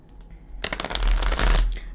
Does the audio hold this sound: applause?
no